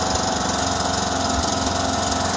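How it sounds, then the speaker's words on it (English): A John Deere LA105 lawn tractor engine idles smoothly and steadily, a close, loud, even drone with a constant rhythmic putter and no pauses. "Okay, now it's running good, smooth at idle."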